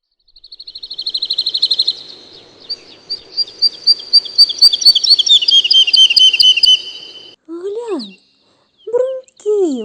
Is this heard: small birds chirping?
yes